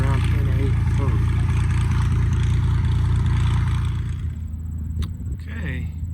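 A Cessna 180 light airplane's piston engine drones loudly on the runway in cool weather, holding steady before easing off after about four seconds, followed by a few sharp clicks.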